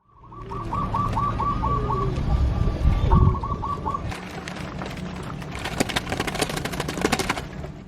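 A perkutut, or zebra dove, coos in a run of quick repeated soft notes, then pauses and coos again, close and clear, before rustling and clattering noises take over toward the end.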